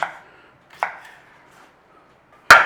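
A knife chops onions on a board in three distinct strokes, spaced apart, the last the loudest, with quiet pauses between.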